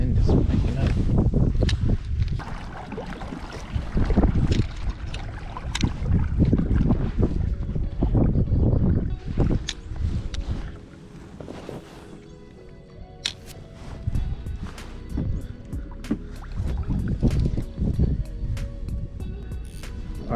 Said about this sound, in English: That wind is waking up.